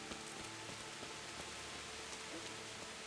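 Steady rain falls in the medieval game Kingdom Come: Deliverance, a dense, even hiss of drops on surfaces that holds at one level throughout with no voices.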